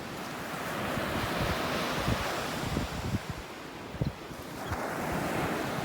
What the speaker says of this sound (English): some sounds of the Gulf